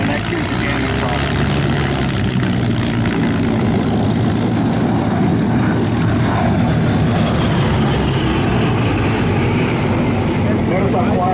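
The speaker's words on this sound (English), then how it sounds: "Notice how quiet the P-38s are when they fly over." A constant low propeller-engine drone from a Lockheed P-38 Lightning fills the scene, steady and fairly loud, like an aircraft passing close overhead.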